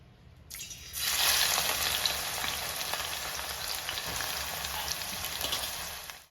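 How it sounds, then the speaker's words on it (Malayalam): Sliced onions hit hot sesame oil in a pan with mustard seeds and fenugreek for Kerala-style onion pickle, bursting into a loud, dense sizzle that rises after a second and crackles steadily to the end. "അവിടെ എണ്ണ നന്നായിട്ട് ചൂടായി വന്നിട്ടുണ്ട് അതിലേക്ക് നമുക്ക് സവോള ഇട്ട് കൊടുക്കാം"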